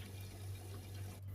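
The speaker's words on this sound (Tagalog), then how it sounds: "Lalagyan lang natin siya ng tubig." Water poured onto potting soil in a planting container, soaking the earth before seeds go in; a faint, steady trickle runs continuously over a low background hum, with no talking.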